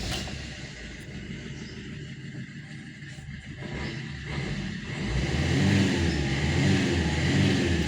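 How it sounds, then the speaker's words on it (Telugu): A 2019 Maruti Brezza with manual transmission has its engine started, then revs, the low rumble swelling and growing louder toward the end, heard up close from inside the car. "సో వెహికల్ స్టార్ట్ చేస్తున్నా."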